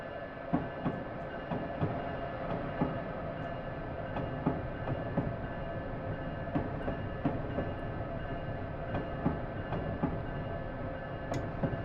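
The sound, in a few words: ACS-64 locomotive running, from the video game Train Simulator 2016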